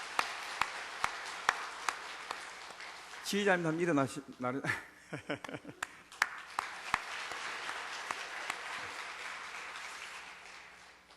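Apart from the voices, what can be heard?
congregation applauding choir and orchestra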